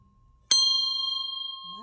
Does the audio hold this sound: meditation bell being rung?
yes